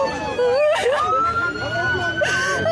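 A loud wailing ambulance siren rises and falls close by at a street protest, mixed with shouting voices and street noise.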